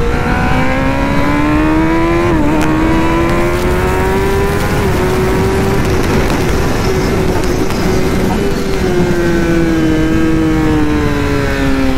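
A sport motorcycle accelerating hard through a corner on a race track, its loud engine note rising steadily in pitch and droning continuously without pause, close and dominant.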